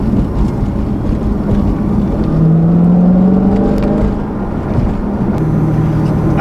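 Supercharged engine of a 2016 Dodge Challenger Hellcat with a Roots-type blower and six-speed manual, droning steadily from inside the car with a rising tone midway, no voices.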